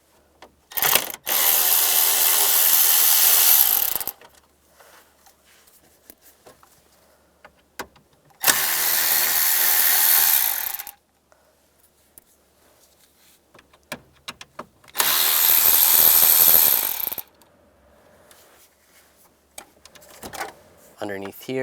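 Power driver with a T20 socket backing out dash trim screws on a 1999-2005 Volkswagen Jetta, three loud whirring bursts of a few seconds each, close up, separated by quiet handling noises.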